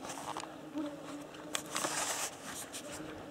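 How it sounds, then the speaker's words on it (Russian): Mosquitoes whine close by during a hike in the forest, a thin buzzing that rises and fades in short passes with faint rustling around it. "Да, много комариков."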